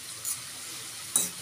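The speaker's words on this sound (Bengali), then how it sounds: "এই তুলসী পাতা নিম পাতা দিয়ে ভালো করে ফোটাবো, আবার একটু ভালো করে 2-3 মিনিট ফোটাবো, নেড়ে নেড়ে ভালো করে" Tulsi and neem leaves frying in oil while being stirred, a soft steady sizzle with two brief scraping clinks of a utensil, close up and quiet.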